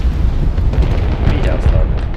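A video-game flashbang grenade detonates as a dense, loud, low rumbling blast that fills the whole moment without a break, with a voice faintly present underneath.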